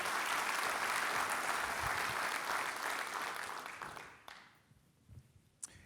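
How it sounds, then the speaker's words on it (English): Loud, dense applause from an audience at a civic Long Beach event, sustained for several seconds before tapering off to scattered claps and near quiet. "Let's give them a big round of applause."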